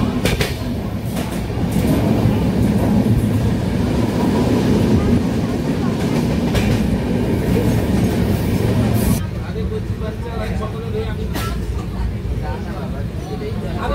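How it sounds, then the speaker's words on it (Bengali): The Kanchan Kanya Express passenger train rolls on rails between Sealdah and Alipurduar, a loud steady rumble with clatter heard from inside, easing to a quieter run after about nine seconds, with a faint murmur of voices. "তো ট্রেন কিন্তু অন টাইমেই চলছে"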